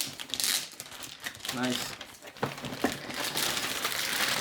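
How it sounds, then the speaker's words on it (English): Plastic wrap crinkles and crackles as it is pulled off an EVGA GeForce RTX 3060 Ti FTW3 graphics card box, loud and close in uneven bursts, with someone briefly speaking over it. "I'm gonna get this plastic foliage off."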